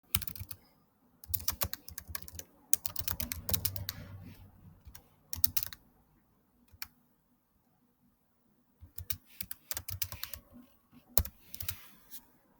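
Close, quick typing on a computer keyboard comes in bursts of clattering keystrokes, with quiet pauses between runs.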